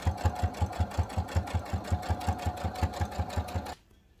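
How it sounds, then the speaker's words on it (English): A sewing machine top-stitches the edge of a fabric coaster in a steady, rapid mechanical rhythm, close and loud, then stops abruptly near the end, leaving quiet. "now you're going to back stitch so that you can lock in your stitching and continue all the way around"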